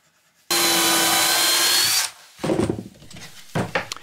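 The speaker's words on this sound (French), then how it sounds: "on va reprendre notre forêt pour créer un avant-trou. On va percer à peu près à 3 cm des" A power drill bores a pilot hole in wood, a loud steady whine for about a second and a half that cuts off sharply, then a few short bursts of handling and scraping noise.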